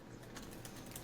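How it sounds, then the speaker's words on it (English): Rapid typing on a computer keyboard, a dense run of quiet clicks and taps that fill the short stretch at a steady low level. "Just quickly hear her typing like"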